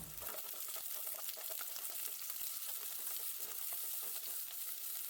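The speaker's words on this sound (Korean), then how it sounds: "이제 볶음팬에 양파, 피망, 파인애플 넣고 볶습니다." Onion, green pepper and pineapple sizzling and crackling in a hot stir-fry pan, with scraping and tossing as they are stirred, busy and continuous.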